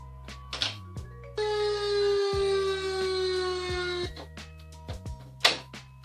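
A homemade anti-theft alarm siren wails with a loud, steady electronic tone for about three seconds, with clunks and a few brief noises before and after.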